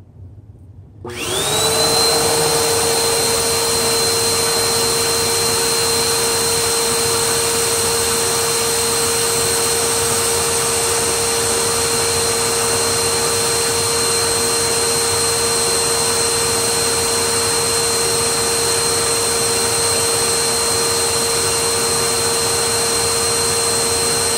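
A Bissell Powerforce bagged vacuum cleaner starts up and runs steadily at full power through an airflow test, its loud constant whine with a clear pitched tone holding alone for over twenty seconds.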